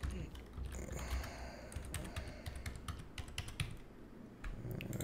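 Password keystrokes on a computer keyboard, a quick irregular run of light clicks and taps, close and fairly quiet, with low background rumble.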